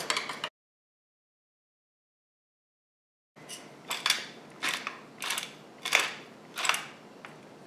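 Mashed potato pancake mixture with flour, salt and pepper stirred in a bowl, giving a run of rhythmic scraping, squelching strokes about twice a second, close and moderately loud after a brief opening sound and a stretch of silence.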